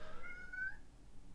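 A single short cat meow, faint and close, rising then trailing off within about a second over quiet background hum.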